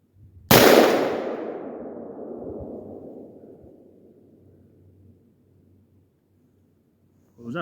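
One loud, sharp crack from an AR-15 rifle fired one-handed, its echo decaying over several seconds into quiet, then a second shot starting at the very end.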